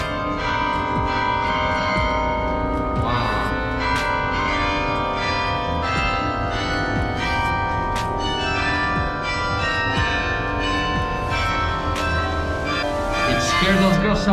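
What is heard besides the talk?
church bell ringing in Torre dos Clérigos tower, Porto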